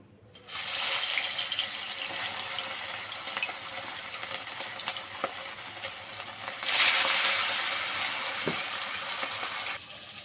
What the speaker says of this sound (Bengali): প্রথমে আমি মাছটা ভেজে নিচ্ছি।